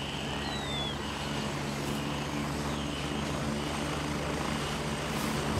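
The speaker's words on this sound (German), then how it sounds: "das ist ein Hubschrauber, Alter, das ist nicht unser" A helicopter in the video game Gray Zone Warfare drones overhead with a steady rotor and engine rumble, constant and fairly close, with a brief whistle-like sound near the start.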